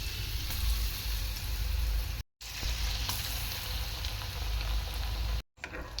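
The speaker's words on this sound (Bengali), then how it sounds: "এরপর এটাকে তেলের মধ্যে ছেড়ে দেব।" Battered eggplant slices frying in hot oil give a steady, dense crackling sizzle, close and continuous, broken by two brief silent gaps.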